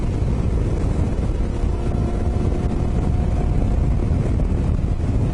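A T700 motorcycle carries two riders through twisting roads, its engine a steady drone buried under heavy, constant wind rush across the microphone, with no talk.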